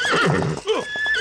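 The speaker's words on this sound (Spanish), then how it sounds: "¡Quieto, caballo! ¡Quieto!" A cartoon horse neighs in a quick, shrill whinny with a wavering pitch, followed by a second brief whinny, up close and loud.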